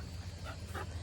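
Charlie the dog gives short, low growling yips and whimpers at another puppy, faint and brief over a humming background outdoors in a garden.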